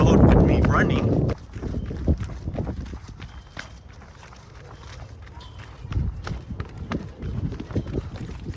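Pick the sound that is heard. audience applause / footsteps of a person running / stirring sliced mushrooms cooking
footsteps of a person running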